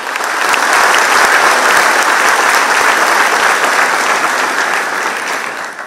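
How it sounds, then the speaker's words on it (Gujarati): A live audience at a Gujarati talk event breaks into loud, sustained applause that swells quickly and holds dense and steady before easing slightly at the end. "બંને આયોજકો માટે એકવાર જોરદાર તાળી થઈ જાય"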